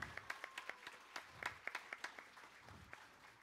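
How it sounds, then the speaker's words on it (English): A church congregation at a morning service gives the kids a round of applause, with scattered, faint, distant claps in a loose rhythm that slowly thins out. "Let's give the kids a round of applause again"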